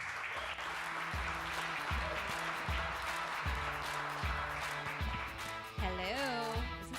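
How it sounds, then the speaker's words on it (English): Audience applause greeting speaker Amy Woodall at a live talk event, steady crowd clapping under a low musical backdrop with sustained tones, moderately loud and continuous, with a brief vocal sound near the end. "Let's give Amy a big round of applause."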